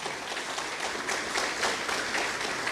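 A church congregation applauds at the end of a sermon, with steady, dense clapping that holds at moderate level throughout with no talk over it.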